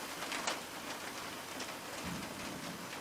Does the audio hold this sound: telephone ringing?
no